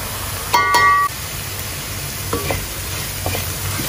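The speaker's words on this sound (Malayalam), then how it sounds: "അപ്പോൾ പൊടികളൊക്കെ ഒന്ന് മൂത്തുണ്ട്." Turmeric, Kashmiri chili powder and garam masala fry in a pan for Angamaly-style pork fry, giving a soft steady sizzle broken by a sharp clink of the utensil and a few light scraping stirs.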